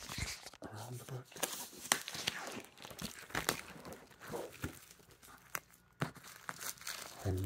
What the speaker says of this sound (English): I will pull out my little cutter and cut very gently the cellophane